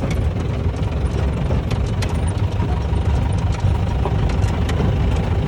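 A Campian vehicle's engine runs after a carbon cleaner treatment, a steady low rumbling drone with an even, unbroken rhythm, close and fairly loud with no voices over it.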